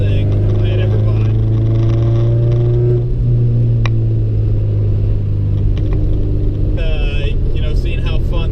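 A car fitted with a Skunk2 3-inch exhaust and a Skunk2 Alpha Series header drones loudly and steadily, its pitch shifting as the revs change around the middle and again near the end.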